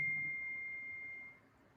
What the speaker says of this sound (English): ding. It's a text message.